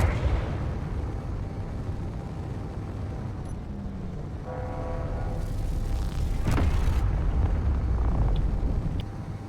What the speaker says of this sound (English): Maybe I'll throw a couple rounds into that hydrogen tank.